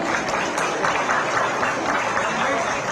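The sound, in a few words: applause from the audience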